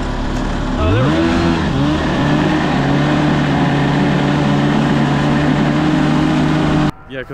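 A 440cc snowmobile engine powering a go kart runs steadily and loudly up close, rising in pitch as it revs up and then holding a droning hum before cutting off abruptly.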